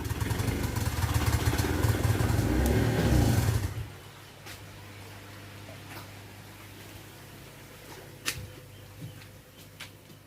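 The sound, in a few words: generator (genset) running during power outage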